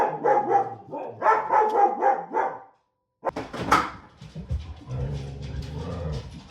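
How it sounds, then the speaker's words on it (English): Zeke, a pet dog, barks in a quick, loud volley of repeated barks up close, goes briefly silent, then gives a sharper yelp followed by lower whining and muffled noises. "he'll just bark at everybody and everything"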